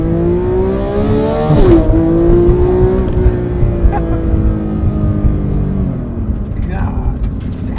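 A Porsche 911 GT3 engine accelerates hard, its note climbing, dropping sharply at a quick shift near two seconds, then pulling again before easing off; loud and close from inside the car, with a voice briefly audible.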